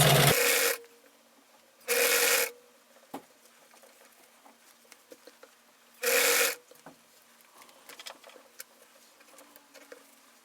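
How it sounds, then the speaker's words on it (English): A Bernina 830 sewing machine stitches fabric in three short bursts of close, steady whirring, separated by quiet gaps filled with light handling clicks and rustles. "I'm sewing on a Bernina 830"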